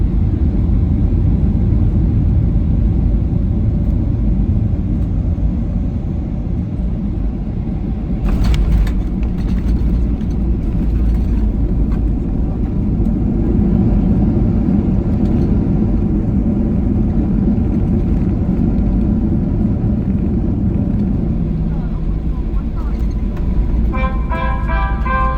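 A steady, loud rumble of an airliner's cabin as it lands on runway 28 at Dublin, with broadband engine and airflow roar holding throughout and a few brief clicks and rattles near the start and end.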